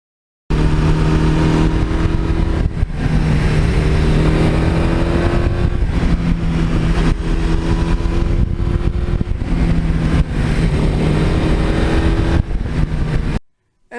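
A Suzuki GS1100E motorcycle rides at a steady cruise, its engine drone loud and continuous with slight shifts in pitch as speed varies, ending with a quick fade near the close.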